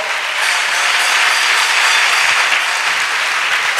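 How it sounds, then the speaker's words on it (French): A church congregation at a salvation and healing weekend in Séguéla breaks into loud, sustained applause, a dense wall of claps filling the space steadily for several seconds with no voices standing out. "Acclamez d'abord."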